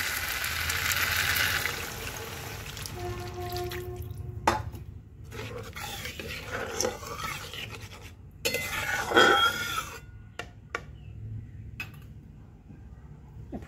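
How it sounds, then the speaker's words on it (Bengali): Water poured into a cooking pan of fried tomato and onion for a Bengali morala fish sour curry, a rushing, sizzling pour near the start, followed by stirring and clinking pan sounds at close range. "জল দিয়ে দেব।"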